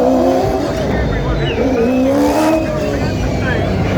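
Gen 3 Supercars race cars roar around the Newcastle street circuit, loud engine notes rising and falling through gear changes as several cars pass close by, with tyre squeal and a voice talking underneath.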